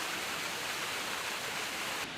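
Yerköprü Waterfall in the Hadim district of Konya sends out a steady, dense roar of rushing water that holds even and unbroken throughout, with no voices.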